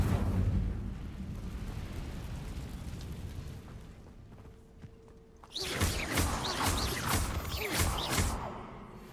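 An Incendio fire spell is cast in Hogwarts Legacy: a low rumbling background gives way to a sudden loud, crackling, whooshing burst of flame that sustains for a few seconds.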